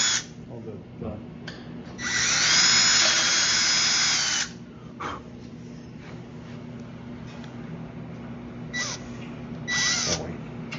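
A power drill drives a bit during a travel trailer build, one loud sustained whirring run lasting about two seconds, followed by short, lighter bursts of spinning later on, with brief talk between.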